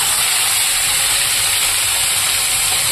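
Leftover hilsa fish fat fries in a kadai of hot oil with black cumin seeds, giving a loud, dense, unbroken sizzling hiss close to the pan.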